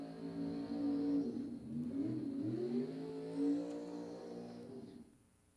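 A rail dragster launches down the strip at Empire Dragway, its engine droning loudly with rising, sweeping pitch for several seconds before trailing off into the distance. There is no talk.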